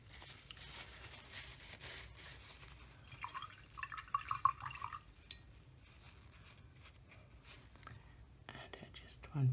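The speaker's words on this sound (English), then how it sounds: "Need to clean this brush." A watercolor paint brush is swished and rinsed in a container of water, giving soft, quiet splashing and dripping sounds. The sloshing is clearest in the middle of the clip, with faint movement around it.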